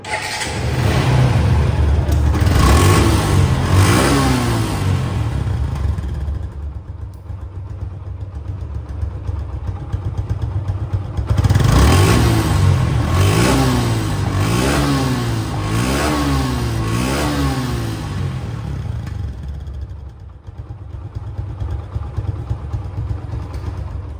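A secondhand 2023 Suzuki Gixer motorcycle runs up close, idling and then revving hard in repeated rising bursts, settling between pulls, with a steady loud engine drone throughout and no talking.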